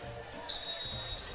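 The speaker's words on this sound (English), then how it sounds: "There's the whistle." A referee's whistle blows one long, steady shrill blast just before kickoff at a high school football game in Johnson County, sounding over a murmuring stadium crowd.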